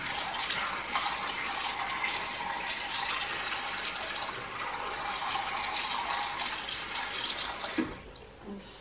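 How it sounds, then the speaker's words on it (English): Tap water running steadily while potatoes are rinsed in a hay-box cooking pot, a continuous close splashing flow that cuts off near the end. "Let's now rinse it a little bit."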